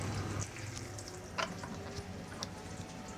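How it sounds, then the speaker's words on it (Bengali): Chicken pieces fry in hot oil, a soft continuous sizzle with small crackles and a few sharper pops scattered throughout, fairly quiet and close, no voices. "ফার্স্টে চিকেনগুলো ভালো করে ভেজে নিব"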